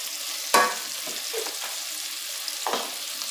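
Spices, saffron and colorau, being stirred into food frying in a pan while cooking beef tongue: a steady soft sizzle broken by a few scraping stirs of the utensil, close by, with no talking.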